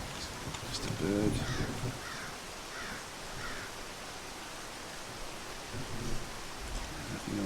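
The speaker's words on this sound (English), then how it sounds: "Bird." Several crow caws from the Zero Sievert survival shooter repeat in a short sequence, moderately distant over a rain-like hiss of ambient noise, with a voice talking in the first part and again near the end.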